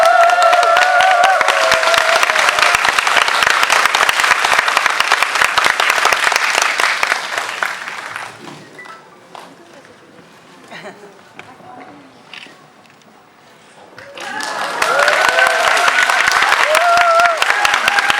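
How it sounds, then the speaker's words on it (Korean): Audience applause at a Korean film screening and cinema hall opening event: loud, dense clapping from a large crowd that fades into a quieter stretch, then swells again in a second strong burst. "여러분 박수를 부탁드리겠습니다."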